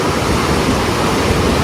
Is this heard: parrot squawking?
no